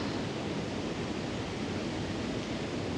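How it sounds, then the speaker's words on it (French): Ocean waves breaking on a shore behind an outdoor yoga session, a continuous broad wash of surf noise, steady and fairly loud with no voices. "Je ne sais pas si on entend dans le micro le bruit des vagues derrière moi."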